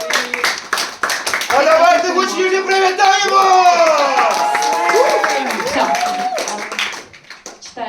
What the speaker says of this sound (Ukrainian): Під ваші оплески привітайте!